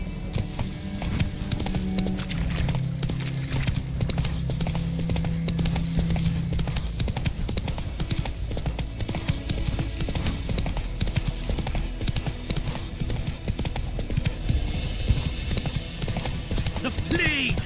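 A horse's hooves clip-clopping at a fast gait in the Witcher 3 game, a steady rhythmic clatter over a constant game soundscape, with voices talking over it.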